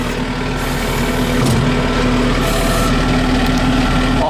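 A farm tractor's engine runs loud and steady up close as its hydraulic 3-point hitch strains to lift a heavy implement cantilevered out behind, a constant droning hum with a slight rise partway through.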